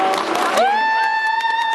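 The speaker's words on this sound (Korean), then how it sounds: "여러분께 응원의 박수 부탁드릴게요" Brief burst of applause from an outdoor concert crowd at Lotte World, giving way after half a second to a sustained high held vocal cheer over faint clapping.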